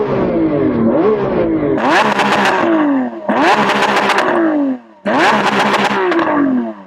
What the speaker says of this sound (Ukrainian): Я хочу послухати, чи звучить твоя інакше. Може інший вихлоп.